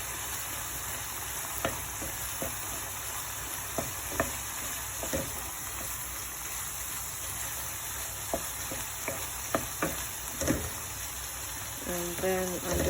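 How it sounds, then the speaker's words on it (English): Spices being stirred into karahi keema in a frying pan: a steady sizzle with scattered scraping clicks of the spoon, and a louder clatter near the end. "And just give it a good stir."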